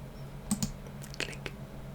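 Buttons on an Xbox-style game controller clicked in a handful of quick, close plastic taps, soft and crisp over a low steady hum.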